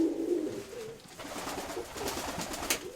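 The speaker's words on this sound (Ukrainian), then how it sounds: "Голубята лютневі." Pigeons coo softly inside an upper dovecote box where young February-hatched birds are kept, a low murmuring call heard close amid rustling and faint chirps.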